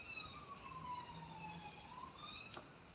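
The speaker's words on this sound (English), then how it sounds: "we've had 2 sirens. These are emergency, going to rescue or save a life." A faint, distant emergency vehicle siren wails at night around 3:30 a.m., its tone sweeping slowly up and down over quiet background noise, with a brief click near the end.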